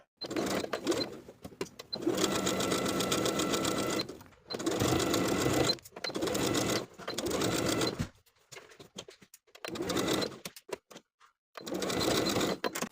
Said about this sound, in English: Sew the zipper in place from the top to the bottom using your zipper foot.